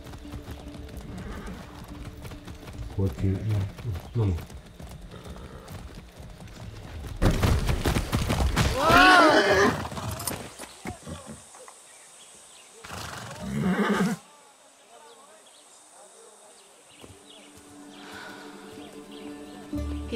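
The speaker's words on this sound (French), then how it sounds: "t'es sur un cheval" Horse hooves clip-clop steadily in the video game Far Cry 6, followed by a loud whinny and snorting, while a few brief words are spoken over the hoofbeats.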